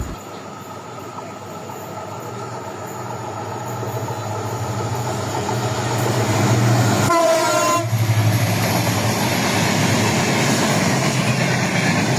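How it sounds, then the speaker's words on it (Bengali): Two Bangladeshi express trains, the nonstop Banalata bound for Rajshahi and the Dhaka-bound Rupashi Bangla, cross at Mawa railway station: a loud continuous rumble of rolling cars with a brief horn blast and wheel squeal, no talk. "রাজশাহী অভিমুখী ননস্টপ বনলতা এক্সপ্রেস ট্রেনের সাথে ঢাকাগামী রূপসী বাংলা এক্সপ্রেস ট্রেনের ক্রসিং সম্পন্ন হলো মাওয়া রেলওয়ে স্টেশনে"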